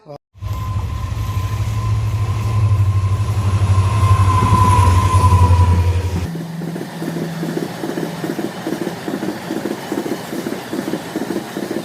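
A train rumbles loudly at Dharamtol station with a low steady drone and a high whine, then shifts to a rhythmic clatter of wheels rolling over rail joints.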